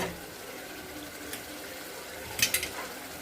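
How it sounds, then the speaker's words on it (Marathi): Soft, steady rush of water pouring into a pan of cooking potatoes and prawns, with a few brief splashes near the end. "अजून थोडं पाणी टाकू"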